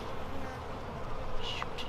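Honeybees buzz around an opened hive during an inspection, a soft continuous droning hum with faint overlapping wingbeats close by and no speech.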